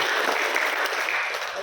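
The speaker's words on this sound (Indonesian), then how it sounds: "Tepuk tangan buat kakak kita." A seminar audience bursts into loud, close applause, a dense wash of many hands clapping steadily through the brief moment.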